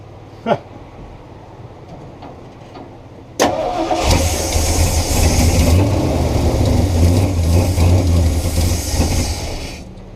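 A car engine fitted with an upgraded Offenhauser intake cranks and catches abruptly, then revs and runs loudly and close for several seconds before settling, after a brief quiet start.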